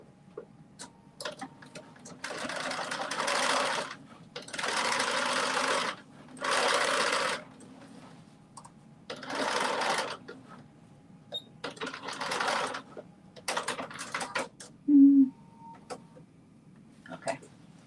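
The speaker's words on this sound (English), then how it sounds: "I'm just going to stitch the whole side seam down." A sewing machine stitching the side seam of a Burda 5811 garment runs in close, loud bursts of rapid needle chatter, each lasting a second or two, separated by pauses and a few soft handling clicks.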